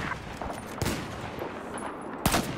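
M40A5 sniper rifle fire in Battlefield 4 multiplayer, with two sharp gunshots about a second and a half apart over a busy battlefield background.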